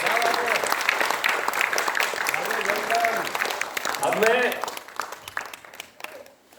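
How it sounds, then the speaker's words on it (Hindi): Audience applauding a theatre group's performance at a stage event, a broad, sustained burst of many hands that gradually thins and fades, with a voice briefly speaking over it near the end. "जोरदार एक बार ताली हो जाइए।"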